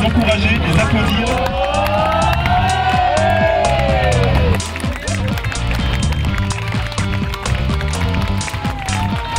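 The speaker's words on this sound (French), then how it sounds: "je vais vous demander de les encourager, de les applaudir." A crowd at a Relay for Life charity event in Monclar-de-Quercy cheers and whoops as relay runners set off, lively and close, with a voice speaking over the babble.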